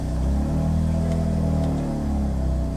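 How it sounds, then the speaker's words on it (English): A BMW M3/M4 F-Series engine running close by after being started: a steady, deep idle rumble with little change throughout and no voices. "go ahead and start your car back up"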